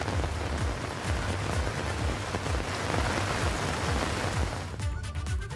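Heavy monsoon rain in the hill regions of Uttarakhand, a dense, steady roar of downpour drumming on surfaces that stays loud and unbroken throughout with no voices.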